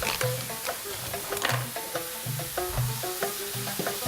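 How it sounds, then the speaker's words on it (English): Butter sizzles in a pan with meat and oil, a steady crackling fry under light stirring and clinking throughout. "What we're going to do now is put about a quarter of the butter in"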